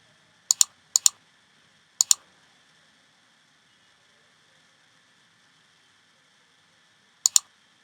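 Short bursts of computer keyboard clicks, a quick double tap, another pair, a single pair, then a long quiet pause before a final pair, close and crisp over a faint steady hum.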